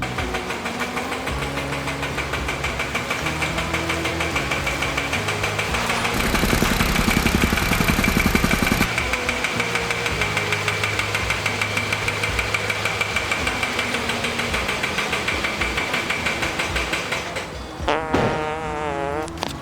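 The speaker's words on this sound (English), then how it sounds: "We'll just let this thing idle back around to the back of the shop." A rebuilt car with a reverse camera idles as it rolls slowly around to the back of a shop, giving a steady, close, low engine rumble with no talking, then a brief different noise near the end.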